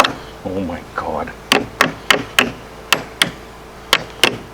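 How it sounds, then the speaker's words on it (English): A hammer taps a homemade metal part onto a Polaris. About eight sharp, ringing strikes come close by in an uneven rhythm after a short stretch of voices. "I'll get a hammer and we'll see if we can get that on there"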